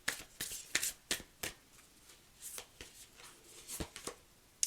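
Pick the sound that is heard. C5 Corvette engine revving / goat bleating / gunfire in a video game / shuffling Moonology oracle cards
shuffling Moonology oracle cards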